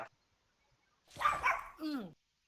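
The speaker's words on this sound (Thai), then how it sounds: "มันเห่าเข้าคลิปกูแล้วเนี่ย" A dog gives a couple of close, abrupt barks ending in a higher yelping note, after a stretch of near silence.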